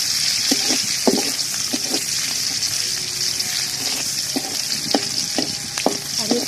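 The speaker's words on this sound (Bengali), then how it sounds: "আর এই পেঁয়াজটা আমি কিছুক্ষণ ভেজে নেব।" Chopped onions sizzle in hot oil in a wok, a loud continuous hiss with scattered spatula clinks and scrapes against the pan.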